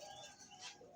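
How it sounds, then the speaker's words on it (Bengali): A male Lakkha pigeon, red with a pale wing pattern, gives soft, low cooing calls, faint and steady across the short stretch, with no talk. "যে ডাকতেছে এটা হচ্ছে নর কবুতর"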